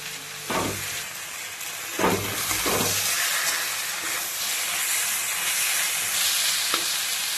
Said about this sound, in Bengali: ঘন্টটা আমি ঠিক এরকম নেড়ে নেড়ে একটু শুকিয়ে নিয়েছি